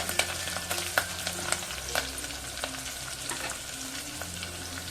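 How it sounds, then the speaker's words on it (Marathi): Curry leaves and a cut green chili sizzle in hot oil for a tempering for a sprouted moth bean curry, a constant close frying hiss with sharp crackles and pops and light stirring. "आपण कढीपत्ता घालू ही एक मिरची अशी कमी तिखट कापून घेतलेली ती पण घालूया"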